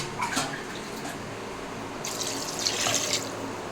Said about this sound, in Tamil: இது கூட நம்ம ஒரு 2 டம்ளருங்க தண்ணி ஆட் பண்ணிப்போம்